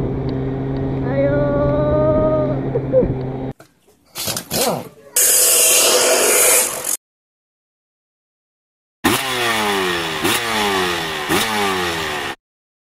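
A two-stroke Asiastar automatic scooter runs near top speed, its engine droning steadily then cutting out, followed by a brief clatter, a loud burst and another long revving pass with rising and falling pitch sweeps, close and loud.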